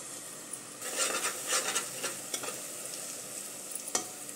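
Sesame seeds and garlic paste frying in oil for a dhaba-style masala khichdi, crackling and sizzling close up as a spoon stirs them, with a sharp scrape near the end.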